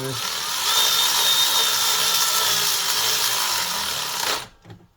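A power tool drives belt tensioner bolts into a Chevy Suburban 5.3L engine, a loud, close, continuous whirring that runs for about four seconds and then cuts off abruptly.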